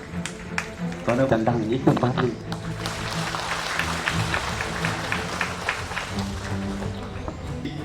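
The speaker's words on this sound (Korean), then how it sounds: "여러분 모두가 박수를 부탁드리겠습니다" Applause from an audience at a building dedication ceremony, a broad wash of clapping that swells after a speaker's voice over a PA and carries on steadily for several seconds.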